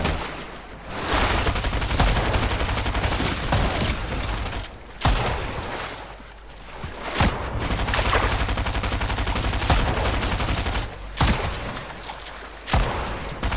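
Rapid bursts of automatic gunfire in the video game Fortnite Season 7, loud and dense, broken by short pauses between long volleys.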